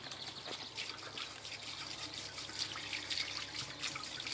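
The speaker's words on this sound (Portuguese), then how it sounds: "Lavando a gengibre, tirando o excesso de terra." Tap water runs steadily over freshly dug ginger root being rinsed of soil, a continuous splashing hiss with small irregular spatters, close by and without speech.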